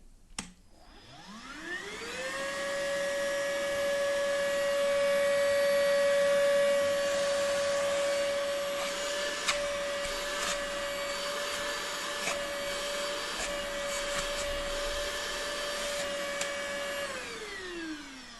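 A Deerma VC25 cordless stick vacuum at maximum 10,000 suction setting whines up to full power and holds a steady, loud high-pitched drone for about fifteen seconds before spinning down.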